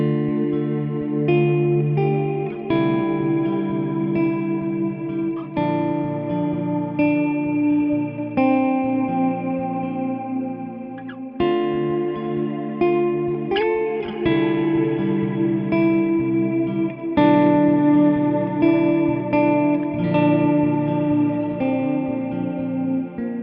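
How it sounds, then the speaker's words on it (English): Electric guitar run through a Quad Cortex mini with a swelling Blossom bloom reverb, playing sustained chords and notes whose wash of reverb builds and lingers after each attack, no voices. "It adds a swelling reverb character that builds after the initial note, making it ideal for volume swells, arpeggios, and more expressive playing"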